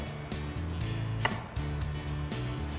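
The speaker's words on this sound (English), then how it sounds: "I'm gonna chop up the garlic" A knife chops garlic on a cutting board in a kitchen, a few quick close taps over a steady low hum, with one sharper knock partway through.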